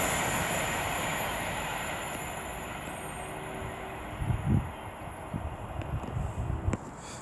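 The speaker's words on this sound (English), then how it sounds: "Alston Pendolino" Alstom Pendolino electric train at Lichfield Trent Valley, a steady rushing hum with a high whine, then thumping wheel beats and clatter growing louder near the end as it passes.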